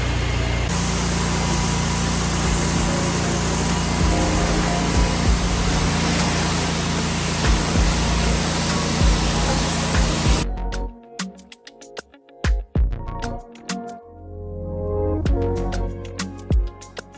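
A pressure washer rinses a driveway with a loud, steady broadband spray for about ten seconds, then cuts off into quieter, intermittent bursts and handling noises.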